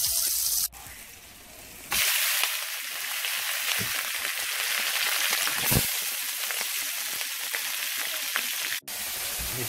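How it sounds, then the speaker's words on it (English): Potatoes seasoned with salt, pepper and garlic pan frying in canola oil with green onion, a steady close sizzle and hiss that swells loudly after a brief quieter start and runs on without talk. "My potato, I'm gonna add a little salt, pepper, and garlic to that, and just let them pan fry."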